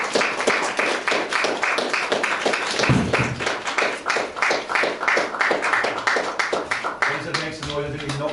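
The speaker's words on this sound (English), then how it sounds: "and you may applaud" Wedding guests applaud the couple's kiss at the ceremony, a dense, sustained clapping from a crowd, fairly close and steady, with voices mixed through it.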